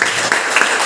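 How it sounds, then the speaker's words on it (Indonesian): An audience at a school teachers' event claps together, a short burst of dense, even applause with no talking. "Tepuk tangan semuanya."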